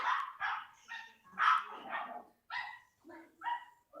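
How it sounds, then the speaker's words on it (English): A dog barks repeatedly in the background during an online conference call, sharp yips and barks coming in an irregular series of bursts that dominate the clip with no talk over them. "Someone's got a dog in the background."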